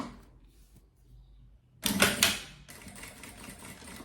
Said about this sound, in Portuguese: a gente vem pra máquina costurando ela agora